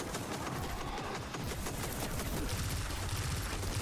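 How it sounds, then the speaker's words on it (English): Gunfire in the video game Destiny 2, The Shattered Throne dungeon: dense, continuous rapid shots and bursts of incoming fire, loud and sustained without pause throughout. "Why am I getting shot from behind?"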